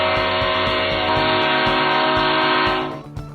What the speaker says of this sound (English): control the NEXGEN Express train horn wirelessly from the interior or exterior of the vehicle